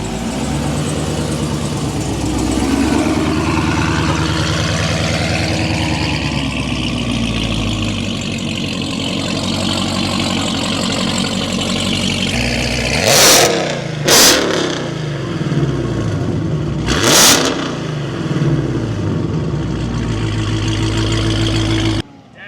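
A car engine, seen at a car show, idles with a steady low rumble and then revs in several short bursts that rise and fall, loud and close, with voices talking alongside.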